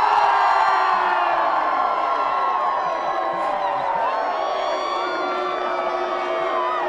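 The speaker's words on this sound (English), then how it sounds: "Can you guys cheer about why Bear Creek is so cool?" Students at Bear Creek High School cheer and whoop as a crowd, a sustained, loud wall of shouting voices that holds steady throughout.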